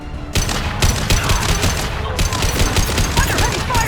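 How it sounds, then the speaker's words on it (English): Dense, continuous gunfire from a Mass Effect 2 firefight, a loud sustained fusillade of overlapping shots and bursts with no pauses over several seconds. "Under heavy fire!"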